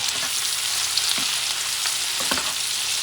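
Squid and shrimp fry in a hot pan with a loud, continuous sizzle, broken by a few soft knocks and stirs and with no voices.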